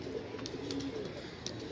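Soft, low coos from Golden Teddy high-flyer pigeons murmur continuously through a steady background, with a few faint chirps from other birds mixed in.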